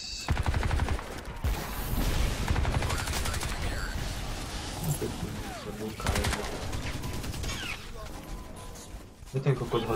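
Bursts of automatic and single-shot gunfire in a first-person shooter game on the Penn Depot map, loud and sharp with rapid rattling volleys and pauses between, with a player talking over the shooting.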